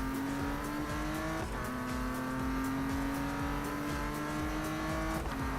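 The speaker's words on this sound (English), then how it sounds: "There's the exhaust." A BMW M3 GTR race car in Need for Speed Most Wanted roars continuously near and loud, its engine tone rising and shifting through gears with a steady exhaust drone and brief tire noise.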